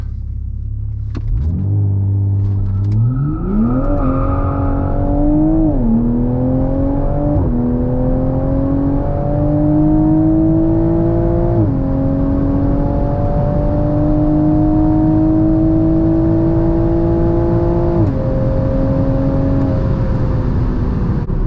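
A stock 2022 Toyota Supra 3.0 leaps off the line on launch control and pulls hard through a quarter-mile run. Its loud engine climbs in pitch with several distinct upshifts over a steady rumble, and nobody speaks.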